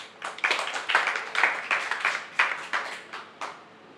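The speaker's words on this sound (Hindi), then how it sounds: "ताली तो बजा दो।" An audience at an evening devotional gathering for a Jain monk claps in a loose, rhythmic burst of a dozen or so sharp claps that gradually thins out, fairly close and with no talking over it.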